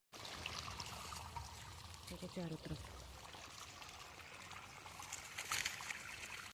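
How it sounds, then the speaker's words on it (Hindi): Irrigation water running through a village farm field of sorghum, a steady soft trickling and flowing under an outdoor wash of noise, while someone talks over it. "ये देखो इधर पानी चल रहा है खेत में"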